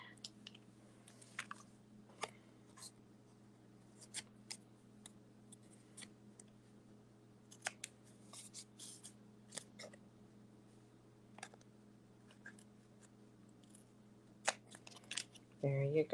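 Scissors snip off paper pieces flush with the edge of a mat on a card-making fractured front layout, giving a string of sharp, quiet cuts spaced a second or two apart over a low steady hum.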